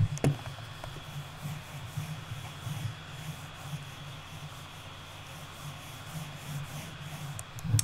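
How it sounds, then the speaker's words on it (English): A Razer Naga gaming mouse slides across a SteelSeries QcK cloth mouse pad, giving a soft, steady rubbing friction that stays quiet and even for the whole stretch, with no talking. "Now, over to the sound of the SteelSeries Quick, again with this mouse"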